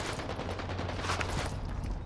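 Gunfire in Call of Duty Warzone, a rapid dense rattle of shots blending into a steady loud barrage with a low rumble underneath, no pauses.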